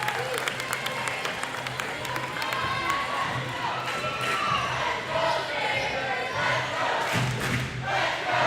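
Fans in a high school gym cheer boisterously for their team at a basketball finals game, a loud, sustained crowd roar with shouts and scattered clapping, a ball bouncing on the court, and an announcer talking over it.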